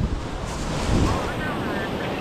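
Sea waves washing onto a seashore, a steady close rush of surf with some wind buffeting the microphone, continuous and fairly loud throughout.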